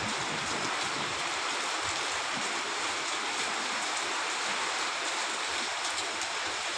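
Heavy rain pours steadily at Lata in Uttarkashi, a dense continuous hiss of water with no breaks, fairly close and even in loudness throughout, with no voices.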